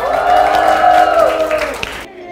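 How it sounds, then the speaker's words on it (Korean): Fans at a café fan event break into applause and cheering, a sustained burst of clapping mixed with crowd voices that cuts off abruptly. "박수!"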